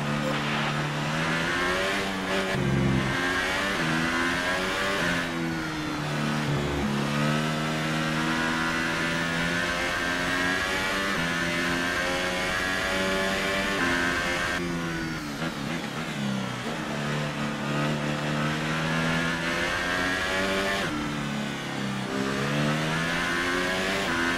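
Race car engine on a Spanish Grand Prix formation lap, held at steady high revs with repeated dips and climbs as the driver loads the tyres and works the brakes to warm them, loud and continuous with no talk.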